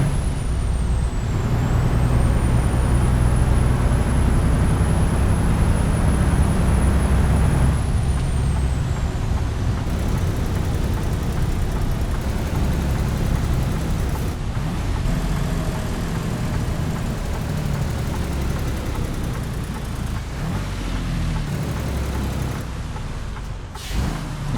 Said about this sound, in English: of the Detroit diesel engine